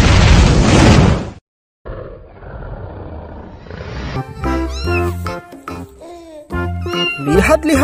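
After a burst of loud noise, a cartoon orange cat meows several times in drawn-out, wavering cries mixed with game-like sound effects.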